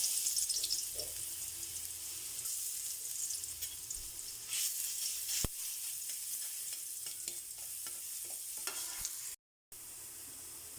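Garlic sautéing in a pan for a Filipino home-style dish, a soft, steady sizzle with occasional stirring scrapes and clinks, fairly quiet and close.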